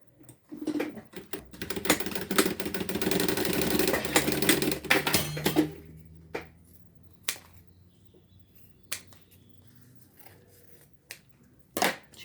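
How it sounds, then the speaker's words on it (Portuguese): A sewing machine stitches a finishing topstitch, running in a fast rattling burst for several seconds, then stopping to leave scattered sharp clicks and taps in near quiet. "Aí nós vamos abraçar aqui e finalmente fazer um pesponto de acabamento."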